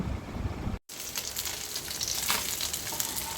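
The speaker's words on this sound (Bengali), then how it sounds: "পাবদা মাছটা ভেজে নিচ্ছি।" Pabda fish frying in hot oil in a home kitchen gives a loud, continuous sizzle that drops out briefly for an instant and then comes back stronger, with crackling bursts.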